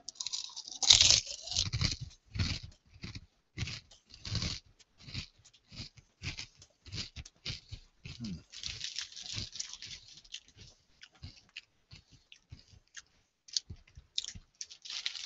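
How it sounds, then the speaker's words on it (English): Shurfine kettle cooked simply salted potato chips are crunched and chewed up close, a long run of sharp, irregular crackling bites that gradually thin out, with no talking. "they're kettle cooked, so they have a good crunch"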